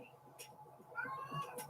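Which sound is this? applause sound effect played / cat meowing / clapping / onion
cat meowing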